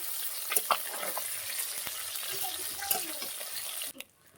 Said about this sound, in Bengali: যেই মাছগুলো আছে সেইগুলোও ভেজে নেব।